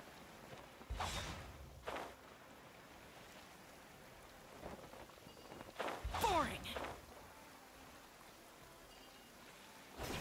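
Steady rain hisses as a constant background in the video game Genshin Impact, with a few soft thuds and brief swells rising above the downpour.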